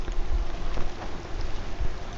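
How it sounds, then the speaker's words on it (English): Rain patters on a military-style poncho with a steady close hiss and occasional heavier low thumps from drops striking the fabric, no one talking. "Oh, we're getting some more rain now."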